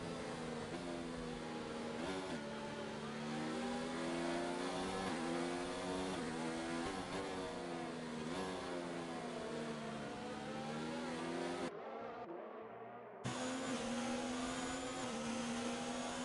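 Formula 1 race cars from the F1 2019 video game scream past at the French round of a league race, a dense, continuous high-pitched engine whine with shifting pitch, briefly cutting out near the end before resuming loudly.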